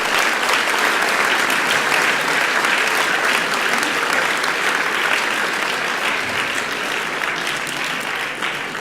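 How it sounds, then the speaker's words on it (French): Loud, sustained applause from an audience fills a hall at a sports trophy ceremony in Soustons, a steady dense clapping that continues throughout without pause. "je crois que vous pouvez leur faire un tonnerre d'applaudissements"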